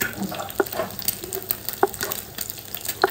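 An egg fries in hot oil in a magic omelet pan, giving a steady, soft sizzling hiss broken by scattered sharp pops and crackles throughout.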